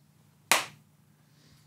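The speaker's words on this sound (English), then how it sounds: "Can you clap?" A single sharp hand clap to sync the camera at the start of filming, one crisp close slap with a short decay in an otherwise quiet room.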